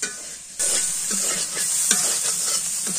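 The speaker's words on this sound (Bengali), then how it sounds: "চিংড়িটা ভাজা হয়ে গেছে" River prawns frying in oil in a pan, a loud steady sizzle that jumps up sharply after a brief quieter moment, with soft stirring scrapes and clinks throughout.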